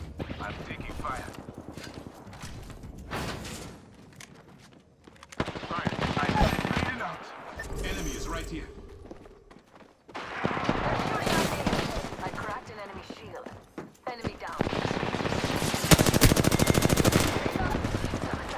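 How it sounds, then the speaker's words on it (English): Gunfire in a shooter video game, with repeated bursts of automatic fire and loud shots that swell and drop across the stretch, mixed with game effects and players talking over it. "I'm taking fire."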